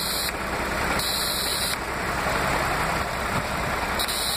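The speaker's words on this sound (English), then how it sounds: "the RPM speed is going to rise again" A Toyota MR2's 2GR-FE V6 engine idles loudly and steadily at close range, a constant rumble with an A/C idle-up raising the speed, and no one talking.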